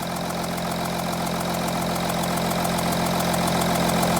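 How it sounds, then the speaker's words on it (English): Audi Q7 diesel engine idling after repair for rough running, a steady close drone with a faint regular ticking pulse and even low rumble throughout. "Actually, the engine sounds a lot better now."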